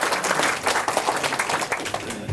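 Audience applause at a Seoul political lecture session: a dense, steady wash of many hands clapping from a sizable crowd, continuous and fairly loud throughout with no talk over it.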